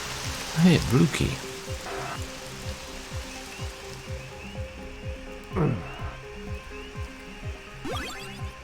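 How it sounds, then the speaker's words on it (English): Steady rain patter from the horror game Splatterhouse 3D runs under the whole stretch, with game music and effects layered on top and people talking over it now and then. "I like the rain sound."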